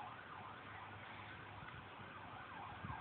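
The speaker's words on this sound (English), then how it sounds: "You might be able to hear all the sirens in the background." Emergency sirens wailing far off in Norfolk, Virginia, after Hurricane Irene, faint and continuous with a low background rumble.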